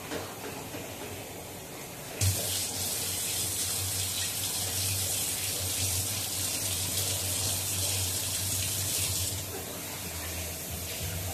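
Running tap water gushing steadily onto glass bottles in a sink while they are rinsed after a soda soak, a close continuous splashing flow that starts suddenly and stops near the end, with no talking.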